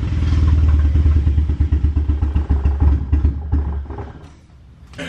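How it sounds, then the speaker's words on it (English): Mazda Miata engine running a burble tune idles with a loud, steady rumble broken by rapid popping and crackling pulses that fade briefly near the end. "Jimmy's uploading the burble tune? Yeah, that's it right there. Little pop"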